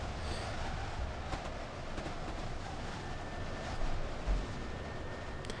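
Quiet, steady hum of a Class 801 electric train running between Kings Cross and Stevenage in Train Simulator 2015, with faint rail rumble and a soft constant tone, no voices.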